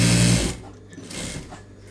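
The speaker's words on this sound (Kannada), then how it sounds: "ಫುಲ್ಲು ರೌಂಡು ಒಂದು ಸ್ಟಿಚ್ ಅನ್ನೋದು ಹಾಕ್ಕೊಳ್ಬೇಕು" A domestic sewing machine runs in a loud, steady whir as it stitches a blouse body and its lining together, then cuts off after half a second, leaving only quiet handling noise.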